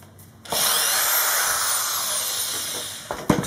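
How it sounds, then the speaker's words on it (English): A power drill bores into wood for a DIY soap mold project, a loud steady high whine starting abruptly after a brief pause and running continuously for about three seconds before cutting off with a few clunks. "I really like working with this drill."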